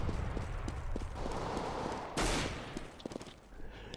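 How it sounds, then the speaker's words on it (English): Counter-Strike gunfire crackles in rapid bursts, a clatter of quick shots with one louder blast partway through, heard at a moderate level without voices. "He's shooting through the wall all the time."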